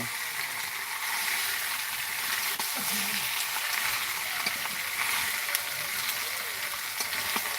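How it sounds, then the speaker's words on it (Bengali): Chicken sizzles steadily in a hot pan at home, a dense continuous frying hiss with occasional stirring clinks, no talk over it. "রান্না হচ্ছে চিকেন"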